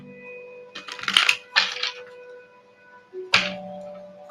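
Tarot cards are shuffled up close in a quick shuffle, a few short papery riffles and flutters with brief pauses between them and no talking.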